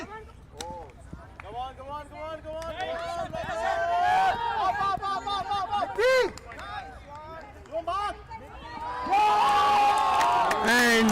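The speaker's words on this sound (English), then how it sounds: "a cheer goes through the crowd" A crowd at an outdoor frisbee match cheers and whoops, with the noise rising in swells and peaking loudly near the end, mixed with running footsteps and commentary.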